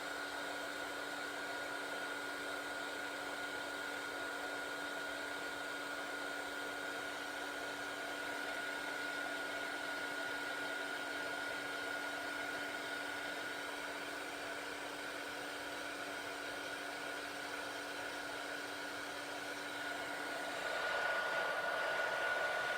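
Handheld heat tool blowing hot air for crafting, a steady, fairly quiet whooshing hum that runs unbroken and then shifts slightly louder and higher near the end, with no voices.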